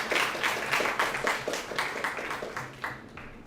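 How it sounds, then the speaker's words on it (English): Audience applause at a lecture oration, a dense run of many hands clapping with steady rhythmic peaks, fairly loud and close, with no talking. "Please, can I have a round of applause for..."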